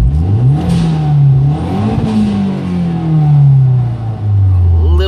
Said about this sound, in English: you can hear from the sound of the engine revving and the actual revs on the screen